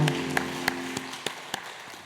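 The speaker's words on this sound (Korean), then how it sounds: "축복의 박수 부탁합니다" A small church congregation during a Sunday service gives a brief round of applause, a handful of sparse, separate claps spaced out over two seconds against a quiet room with a faint sustained tone.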